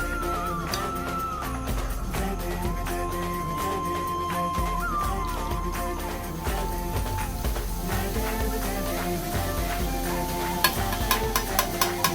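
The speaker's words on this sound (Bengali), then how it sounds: "এবার বুন্দিয়াগুলো আমি ভেজে নেব" Boondi drops fry in hot oil in a kadai, a steady close sizzle and crackle running throughout with occasional stirring clatter near the end.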